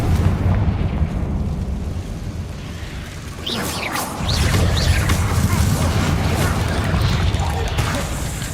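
A Confringo fire spell bursts in Hogwarts Legacy combat: a loud, booming blast hits midway and leaves a sustained rumbling roar with crackling streaks, over steady background game noise.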